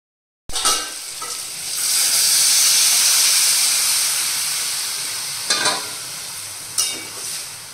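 Water poured into a pot of potato curry sets off a loud, steady sizzling hiss that swells and slowly fades, with a couple of sharp clatters from a utensil near the end; no talking.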